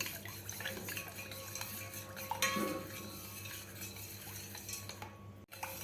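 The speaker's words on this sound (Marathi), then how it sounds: "आता आपल्याला व्यवस्थित हलवून घ्यायचं आहे." A spoon stirs sugar into kokum sharbat, giving a steady clinking and scraping against the vessel in a continuous rhythm, fairly close, with no talk over it.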